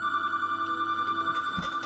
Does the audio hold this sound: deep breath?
no